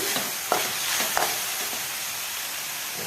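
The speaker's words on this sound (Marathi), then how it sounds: "शेंगदाण्याचा कूट भाजीमध्ये घेऊयात छान असा परतून।" Crushed peanuts are stirred into a safflower leaf curry in a hot pan, a soft continuous sizzle broken by a couple of sharp scraping strokes of a spoon.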